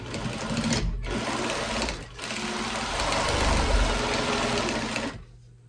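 A sewing machine stitches a straight line in a loud, steady motorized whir, broken by two brief pauses before it stops near the end.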